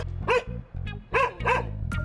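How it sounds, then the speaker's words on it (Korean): A wary white stray dog guarding its puppy near a factory barks in several sharp, close bursts with short pauses between them, loud and with no voices. "너 도대체 언제까지 짖을 거니?"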